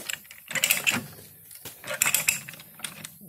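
A Harbor Freight pipe threader ratchets back and forth on a pipe in bursts of rapid metallic clicking, two clusters of close, sharp ratchet clatter separated by brief pauses.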